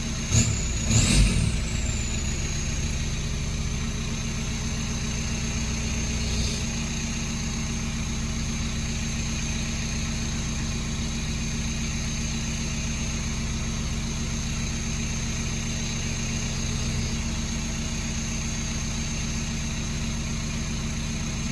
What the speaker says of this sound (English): bleeding the system, letting the car idle.